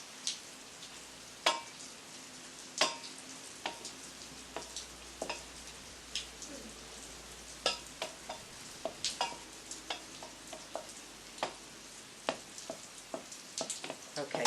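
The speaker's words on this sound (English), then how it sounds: "It just needs to be sautéed in the butter for a moment or two." Garlic sizzles gently in a pan of melting butter, about 25 grams, with a soft steady crackle and several sharp spoon-against-pan taps spaced through the stretch, no talking.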